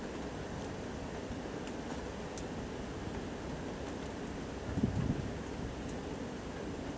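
Steady rain falls outdoors in a shopping precinct at night, a constant soft hiss with a few brief thuds midway and no voices.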